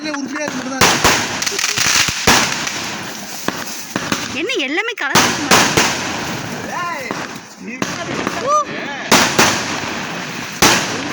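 Diwali firecrackers burst in a quick, sharp series amid voices, with a crowd chattering and shouting between and over the pops outdoors.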